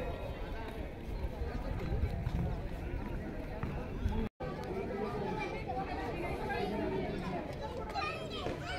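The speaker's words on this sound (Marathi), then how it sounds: "थोडी सगळी गर्दी आहे." Sunday crowd of visitors at Bibi Ka Maqbara, a busy murmur of many overlapping voices with children's calls and footsteps, steady and close throughout, broken by one very brief dropout midway.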